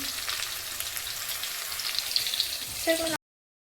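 Garlic added to browned onion fries in a pan with a steady, close sizzle, a short clattering stir near the end before it cuts off.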